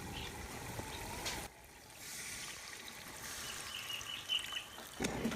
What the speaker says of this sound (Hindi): अब मसाले में हम तकरीबन 1 प्याला पानी का शामिल करेंगे।